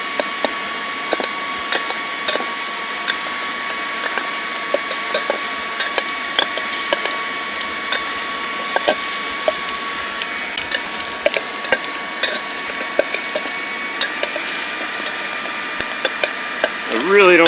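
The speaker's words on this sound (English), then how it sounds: "I really don't need my fan going," A small fan blows air into a homemade mini metal forge, giving a steady whirring hum shot through with rapid ticks and rattling clicks from the fan and metalwork, held at an even level throughout.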